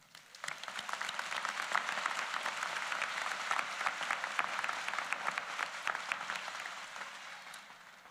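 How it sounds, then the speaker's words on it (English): Audience applause at a university convocation ceremony, a dense sustained patter of many hands rising quickly, holding steady for several seconds, then tapering slightly at the end. "Please give a round of applause to Chancellor Conway"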